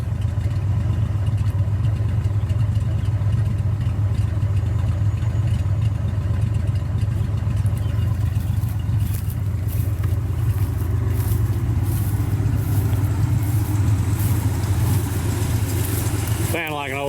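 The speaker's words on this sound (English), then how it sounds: "Sound like an old classic V8." An old classic V8 car engine with big dual exhaust runs at a steady idle, a deep continuous rumble with people talking over it and a brief clatter at the end.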